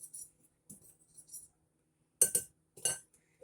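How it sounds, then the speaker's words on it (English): A whisk knocks against a bowl while making cheesecake cups: several sharp metallic-glassy clinks in irregular bursts, close and clear, with a few softer taps between them and silence in the gaps. "This is where the whisk comes in."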